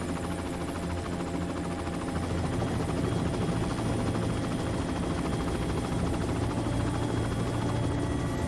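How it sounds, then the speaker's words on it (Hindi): A helicopter drones continuously overhead as it comes down to land, its rotor thumping in a steady, dense, loud beat that stays constant and close for the whole stretch, with no voices. "हेलीकॉप्टर नीचे लो।"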